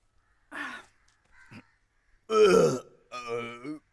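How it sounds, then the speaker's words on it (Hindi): A man lets out several loud, drawn-out, croaking burps in bursts, one short and the last two long and resonant, so loud they pass for a mill horn. "मेरे डकार की आवाज थी"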